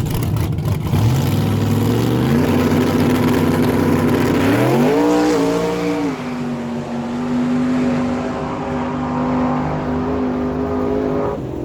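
Small-tire no-prep drag cars, including a supercharged Ford Fairmont V8, launching at Miramichi Dragway, loud engines climbing in pitch through the revs, then holding a sustained high roar as they pull away.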